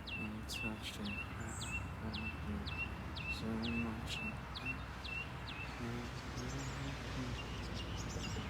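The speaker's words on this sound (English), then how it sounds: "Birds are out singing." Birds sing outdoors near a golf course, repeated sharp chirps in a steady rhythm close by, with softer calls and background murmur and voices mixed in.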